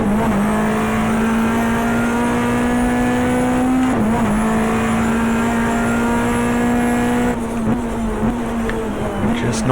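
Race cars at Oran Park during a 1994 GTR2 Australian Manufacturers Championship race drone loudly and continuously, engines holding a steady high pitch with slight dips as they come around to start the last lap.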